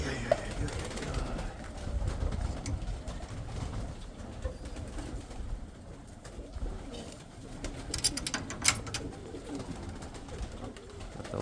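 Pigeons coo low and continuously in a dense, murmuring chorus close by, with occasional sharper chirps and rustles.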